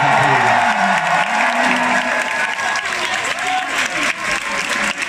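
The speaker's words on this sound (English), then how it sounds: "so please make some noise for Gavin at front of house" Concert crowd at a show in Manchester applauding and cheering steadily throughout, a dense wash of clapping and shouts, loud and sustained with no break.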